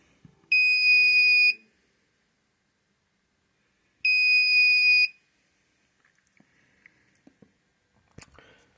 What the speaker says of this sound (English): the buzzer sounds off and the LED begins blinking